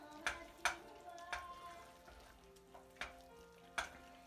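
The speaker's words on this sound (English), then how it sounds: "Melt that butter in." Butter melts into a pan of mushroom risotto with a soft, steady sizzle, punctuated by several sharp clinks of a spoon against the pan at irregular intervals.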